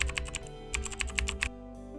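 A computer keyboard typing effect plays as a quick run of crisp keystrokes that stops abruptly before a low hum continues alone.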